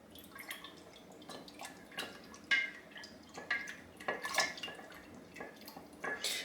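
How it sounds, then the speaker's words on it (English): A spoon stirs a solution in water for water glassing eggs, giving soft, irregular clinks and liquid swishes at close range in a quiet kitchen. "Just stir that up, a little bit until it's dissolved."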